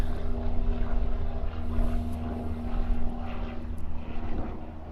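A Hawaiian Airlines airliner arriving from Lihue lands on runway 8 left at Honolulu airport, a steady distant engine roar with low droning hum, heard alone without talk.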